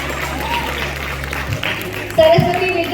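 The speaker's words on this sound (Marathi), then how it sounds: "टाळ्या." Applause at a school science exhibition prize ceremony, a low wash of clapping under amplified sound in a hall, with voices and a louder burst of noise near the end.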